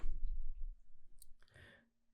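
A single short computer mouse click stands out from near-silence, a crisp tick heard close, with a brief low rustle just before it.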